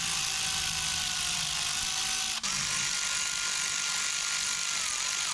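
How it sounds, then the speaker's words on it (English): A 13 mm ratchet loosens the brake caliper bolts on a Jeep Liberty during a wheel bearing job, giving a steady, close, continuous ratcheting buzz with one brief break midway. "Go ahead and unbolt your caliper."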